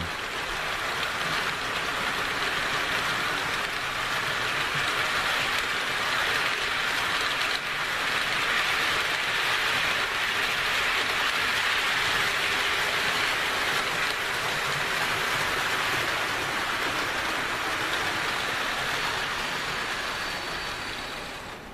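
A model train runs steadily on its track, a constant rushing whir with a soft clatter that holds evenly throughout, with no talking.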